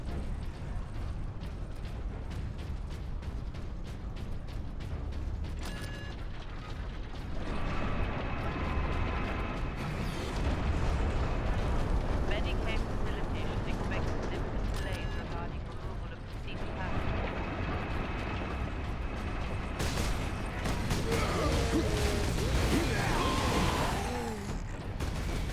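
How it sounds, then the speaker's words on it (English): Vengeance sticky grenade launcher firing in the Warhammer 40k Space Marine game, set in a steady wash of battle noise with mechanical clanks, thuds and bursts of gunfire, swelling louder toward the end. "A vengeance launcher. That sounds promising. It's a sticky grenade launcher."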